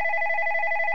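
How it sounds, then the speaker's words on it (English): A telephone rings in the indie horror game One Late Night, a loud, rapidly trilling electronic bell tone heard up close with no one speaking. "Alright, it's time to answer my phone."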